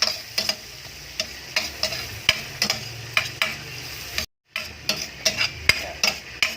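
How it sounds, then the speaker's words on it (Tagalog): White onion and garlic sizzle in melted butter in a pan, a steady light fry punctuated by frequent spoon taps and scrapes as the mix is stirred, close up, with a brief dropout midway and no talk. "Sabay na natin nilaglag yung sibuyas na puti at bawang sa ating butter."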